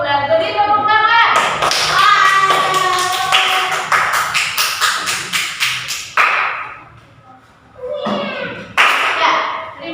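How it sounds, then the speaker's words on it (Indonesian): A classroom of children claps for a group of classmates, a quick burst of tapping hands under chatter, followed by a pause and a second short round. "Beri tepuk tangan."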